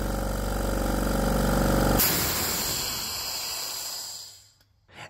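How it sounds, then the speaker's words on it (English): A loud rush of air escaping through a budget air compressor's unloader valve hisses for about two seconds, then trails off into a softer fading hiss before a brief thump. "air escapes out through the unloader valve."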